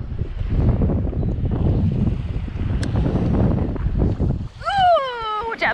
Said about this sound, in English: Kite surfing, yeah, because there's so much wind.